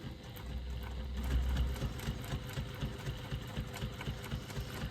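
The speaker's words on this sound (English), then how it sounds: "I'm stitching the open edge closed first, and I'm stitching at a 1/4 inch seam allowance" A sewing machine stitches a bag strap seam at a 1/4 inch seam allowance. Its motor runs with a steady, rapid needle rhythm, close and continuous throughout.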